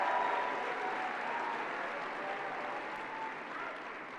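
A graduation audience claps in broad, sustained applause that fills the space and tapers off slightly toward the end, a large hall crowd heard from a distance without speech.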